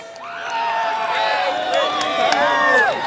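An audience cheers and whoops for two volunteers, excited shouts and high screams building into a loud, lively crowd roar with some chatter mixed in.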